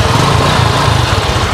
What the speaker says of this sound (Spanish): vamos a prender la motocicleta.